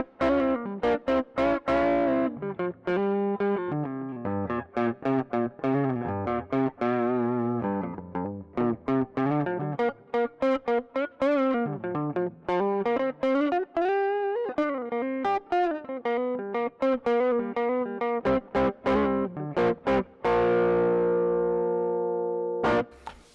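1982 Ibanez Blazer BL300 electric guitar on its neck pickup, played through effects with a continuous run of distorted, sustained notes and chords, loud and alone, ending on a held ringing chord.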